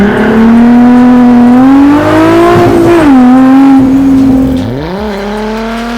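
A hand-built mid-engine go kart powered by a VR6 engine revs loudly and accelerates away, its close, steady engine note climbing, dipping briefly at a gear change, then fading somewhat as it pulls off.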